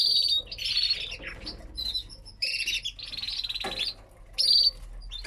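Canaries chirp and twitter in bright, repeated bursts close by, with short pauses between phrases and a low background hum.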